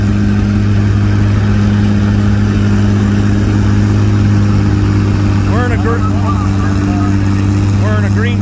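Allis-Chalmers 560 tractor at an 8,000 pound class tractor pull, its engine roaring steadily and loud throughout while an announcer talks over a crowd.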